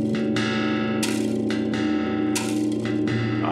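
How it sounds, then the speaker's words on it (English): A gong is struck several times in a musical performance, each hit blooming into a bright shimmering ring that overlaps the lingering tones of the last. "I've got the gong."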